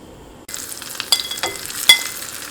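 Dried red chillies drop into hot coconut oil for an Angamaly-style mango curry, bursting into a loud, steady sizzle with crackling pops rising over the next two seconds, close and with no voices.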